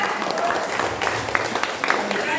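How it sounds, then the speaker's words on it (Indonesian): Audience applause for a contestant at an HKBP fathers' gathering competition, a short burst of clapping with scattered sharper claps, mixed with crowd voices and some talking. "Tepuk tangan untuk Seraja."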